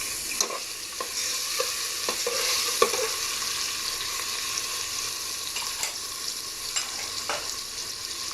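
Chopped tomato goes into a frying pan of kaddu (pumpkin) dal sabzi with ginger, giving a steady, soft sizzle broken by a few light stirring scrapes and taps, with no talking.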